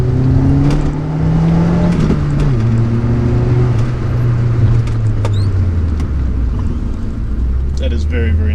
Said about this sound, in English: I really enjoy that when that turbo kicks in